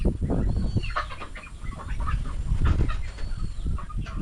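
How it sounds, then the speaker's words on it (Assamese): Domestic hens on a local chicken farm at a farmhouse cluck and call near the microphone in a steady, busy chorus throughout, with scattered sharper calls and no talking. "চ' মুৰ্গীখিনি মৰম লগা নহয়নে"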